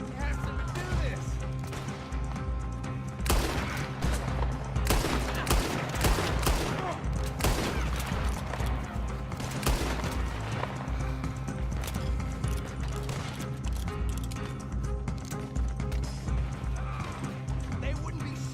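Sustained gunfire aimed at the player character in a video game, dense rapid shots and bursts over continuous action noise and music, with voices speaking throughout.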